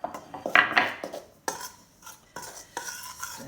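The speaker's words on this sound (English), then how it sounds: "I'm just going to stir that into the flour." A spoon stirs finely chopped herbs into flour in a bowl, making soft scraping and light clinking strokes in irregular bursts, close and fairly quiet.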